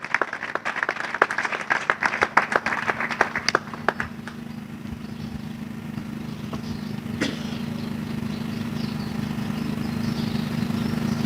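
An audience at an art exhibition opening in Lubumbashi gives a professor a burst of dense clapping that dies out after about four seconds, leaving a steady low hum of room noise.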